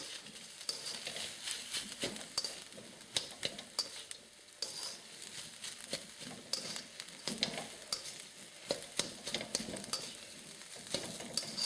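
Fried rice with honey roast char siu pork and onion being stirred in a hot pan, with a steady sizzle under frequent scraping and clinking of the utensil against the pan, close and continuous.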